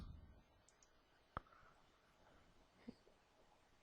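Two sharp, isolated computer mouse clicks, quiet and close, sound about a second and a half apart in an otherwise hushed room.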